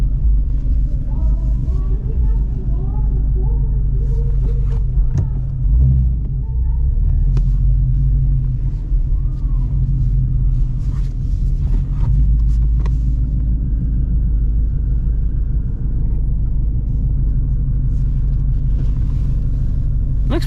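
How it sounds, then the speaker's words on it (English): Ford Shelby GT350 engine at a TX2K23 car pre-meet, a deep steady rumble running continuously under crowd chatter and scattered voices, loud and close throughout. "I love the way this car sounds, man."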